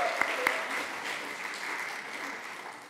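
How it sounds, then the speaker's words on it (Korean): A church congregation applauding to encourage a youth, dense steady clapping from many hands in a hall, loud at first and gradually fading, with a few cheers. "우리 한번 격려의 박수를 할까요?"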